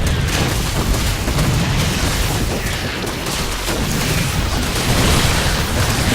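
Siege tanks in StarCraft II fire on infantry amid a dense, continuous wash of booming explosions and battle noise, loud and unbroken for the whole stretch.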